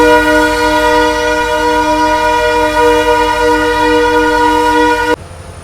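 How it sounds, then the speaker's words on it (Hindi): A train horn blares in one long, loud, steady chord for about five seconds as a train departs a station in the Thar Desert, then cuts off abruptly, leaving a low rumble behind. "तुरंत ही गाड़ी निकल रही है यहाँ से भी"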